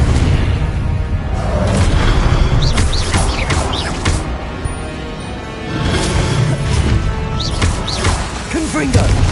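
Confringo fire spell explosions in Hogwarts Legacy, heavy booming blasts and crashes rumbling loudly in a dense battle mix, with a voice speaking over the din.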